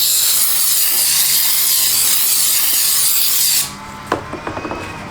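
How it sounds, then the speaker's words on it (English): Rag wiping a brake rotor on a Ford Fusion, using brake cleaner and a microfiber towel: a steady, close rasping hiss of spray and rubbing, then a few quiet clicks and handling taps after it stops. "So I'm going to clean it real good with this and a microfiber towel"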